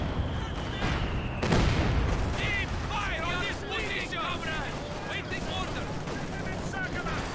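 Sustained battle noise in Company of Heroes 2, with machine gun fire and explosions rumbling through a 2v2 match between Soviet and OKW forces. The fighting carries on continuously beneath a talking player.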